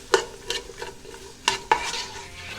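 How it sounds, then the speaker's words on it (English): Diced butternut squash stirred in a hot pan, a steady sizzle broken by several sharp scrapes and clanks of the utensil against the pan, fairly close and with no talking. "And then you're going to saute that for 8 to 10 minutes"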